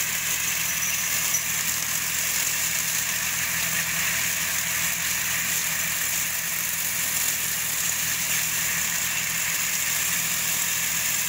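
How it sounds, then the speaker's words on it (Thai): A tractor fitted with a sugarcane leaf-stripping attachment and cane cutter runs at a steady idle, a constant mid-pitched mechanical drone with even vibration throughout and no talking. "รถตีใบเก็บใบออกก่อนนะครับ"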